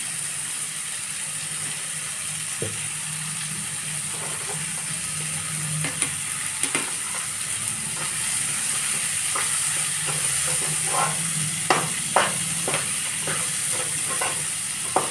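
Onions fry in oil in a pan for Andhra fish pulusu, giving a steady low sizzle with occasional sharp crackles and stirring clicks throughout.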